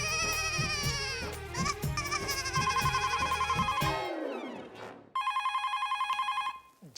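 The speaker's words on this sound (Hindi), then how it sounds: "जरूर सुंदर का फोन होगा।" A telephone rings with repeated bright electronic trills, stops briefly with a falling tone, then rings again loudly and steadily.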